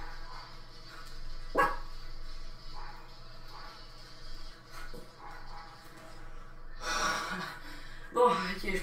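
A dog barks a few times indoors, sharp single barks scattered over quiet background noise and breathing, with a voice speaking now and then.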